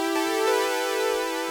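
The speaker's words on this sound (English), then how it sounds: "Just loaded up this Juno patch." A Roland Juno synthesizer patch plays one sustained, rich harmonic tone. It holds steady and sits close, with no one talking.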